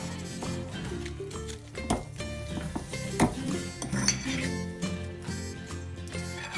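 Sausage roll filling mixed in a bowl, with repeated clinks and knocks of a spoon or utensil against the dish over a continuous wet stirring noise, close and fairly loud.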